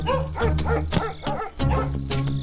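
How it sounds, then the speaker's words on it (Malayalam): A dog barks repeatedly at night near a house where a thief is suspected, five or six sharp, fairly loud barks in an uneven burst, with no talk over them. "അവിടെ എന്താ പട്ടി കുറയ്ക്കണേ?"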